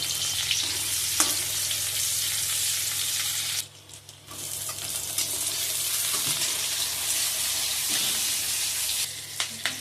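Onions fry in a pan for a Malabar spinach dish. A steady bright sizzle holds close and loud throughout, dips briefly near the middle, then comes back with occasional stirring clatter.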